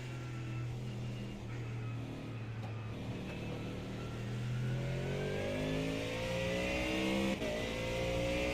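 A Mustang's engine revs and accelerates, a steady mid-pitched drone that rises in pitch and grows louder toward the end, heard alone without talk.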